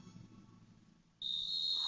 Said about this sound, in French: L'arbitre siffle le coup d'envoi.